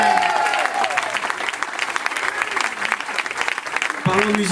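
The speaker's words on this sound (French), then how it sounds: "applaudissez les musiciens s'il vous plaît" A theatre crowd at a live revue applauds the musicians in a loud, dense burst of clapping, while someone talks over it at the start and again as it ends.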